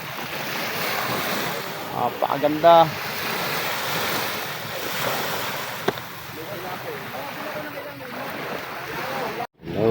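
Ocean waves and strong wind roar continuously around a small fishing boat out at sea near an island in Quezon, with a brief spoken exclamation partway through and wind buffeting the microphone.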